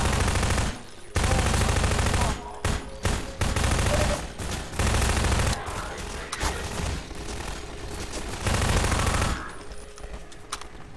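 Rapid automatic gunfire in the shooter Half-Life 2, a full magazine emptied while running forward: loud, dense bursts broken by brief gaps and mechanical clanks, fading near the end.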